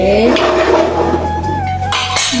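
Whole spices stirred in a metal pot while cooking khichuri, a ladle scraping and clinking against the pan in steady close strokes, with a continuous hum underneath.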